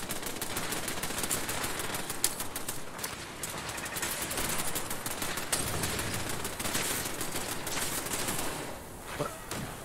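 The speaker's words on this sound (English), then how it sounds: "Who the hell fired that?" Dense, sustained gunfire in the video game Fallout 4, with rapid automatic bursts and overlapping shots during a fight with gunners, loud and continuous throughout with no talking.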